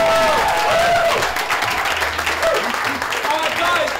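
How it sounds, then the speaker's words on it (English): An audience gives a loud, sustained round of applause for the Turning Point team at a youth event, steady dense clapping throughout with voices mixed in. "Let's just have one huge round of applause for everyone here for Turning Point"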